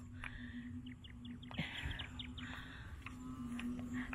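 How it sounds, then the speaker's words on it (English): Scattered bird chirps and short calls ring out over a steady outdoor drone on a farm in the Philippines, with a low continuous croaking hum of bullfrogs underneath. "listen to the birds and listen to the bullfrogs. So noisy."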